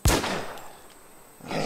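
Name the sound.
gunshots fired at a zombie in the video game The War Z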